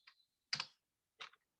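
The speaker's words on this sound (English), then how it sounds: "I'm typing and talking at the same time." Computer keyboard typing in short, faint bursts of key clicks with pauses between, heard alone while working in a grant application dashboard.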